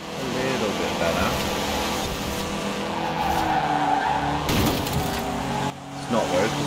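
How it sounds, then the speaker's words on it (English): A car in Forza Horizon 4's winter season skids and squeals across the road, engine droning under loud tire noise with a sharp jolt near the end, while a person talks over it. "we just crashed into a car now"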